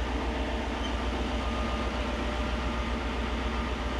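A Ford Steiger FW30 tractor engine runs at a steady idle, a continuous loud low drone with a dense mechanical hum and no change in pitch throughout.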